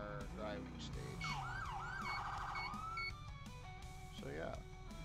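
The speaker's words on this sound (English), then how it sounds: "So we had to turn the siren." A police vehicle siren in a video game wails with rising and falling sweeps, loud and continuous alongside engine and traffic noise.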